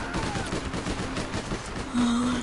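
Continuous gunfire from the online game APB, a dense, busy barrage of rapid shots and bursts that holds steady throughout, with a tonal hum in the mix.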